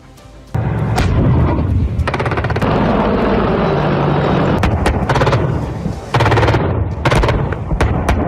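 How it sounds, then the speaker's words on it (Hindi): Machine guns and artillery fire at the Pokhran field firing range during an Indian Army desert exercise: dense, continuous rattling bursts with sharp booming reports, loud and close, broken by brief pauses. "पोखरण फील्ड फायरिंग रेंज में गोली और तोपें गरजी"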